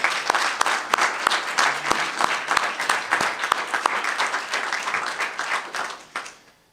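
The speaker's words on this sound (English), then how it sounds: "I think everyone here should give themselves a round of applause for everything that you guys have done" Audience applause at an Invest in Education Coalition celebration of school choice legislation: a room of people clapping, with individual sharp claps standing out, steady at first and then thinning and fading out toward the end.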